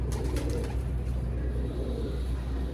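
A female racing pigeon coos in low, continuous throaty murmurs, close by and steady throughout.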